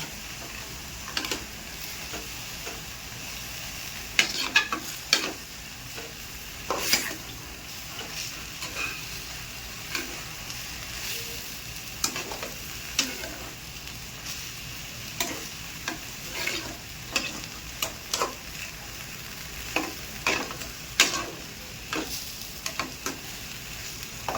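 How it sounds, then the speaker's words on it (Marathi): Dill (shepu) greens with green chillies being stir-fried in a pan, a low steady sizzle punctuated by irregular sharp clicks and scrapes of the spatula against the pan, close and fairly quiet, no one speaking. "आता एका चांगलं आपण परतून घेऊया."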